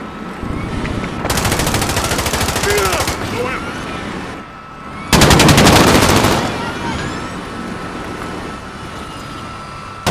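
Automatic gunfire in Call of Duty Modern Warfare comes in two loud, dense bursts, the second heavier and closer, over a steady background of in-game noise.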